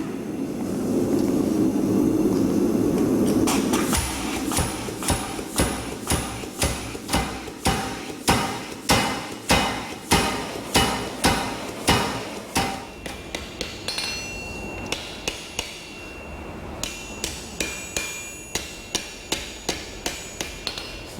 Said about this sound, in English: I'm going to feed the material through and hammer down, and that will go down and shape the leaf to where I want it.